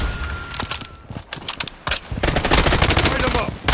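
FN F2000 rifle bursts in the video game Blood Strike, rapid automatic fire in loud close volleys with short pauses between, building into a sustained stream toward the end.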